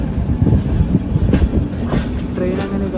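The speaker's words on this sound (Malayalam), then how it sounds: "ട്രെയിൻ അങ്ങനെ ഇതാ വിശാഖപട്ടണം ജംഗ്ഷൻ റെയിൽവേ സ്റ്റേഷനിലേക്ക് എത്തിക്കൊണ്ടിരിക്കുകയാണ്" Long-distance express train rolling into Visakhapatnam Junction railway station, steady close rumble and rhythmic wheel clatter with faint squeals, no one talking.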